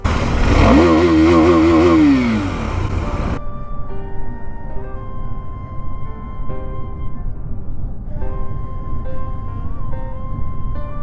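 A KTM motorcycle fitted with a modified short can exhaust revs hard with a rising and falling engine note. Then it settles into a steady, droning tone with overlaid musical pitches, loud throughout.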